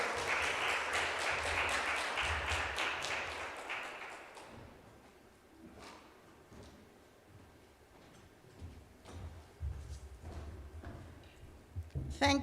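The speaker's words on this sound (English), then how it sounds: "Give her a big round of applause." Applause from an audience at the launch of the National Tourism Debate Competition greets the executive director. Loud clapping fills the first few seconds, then fades into quieter room noise, scattered thumps and light talk.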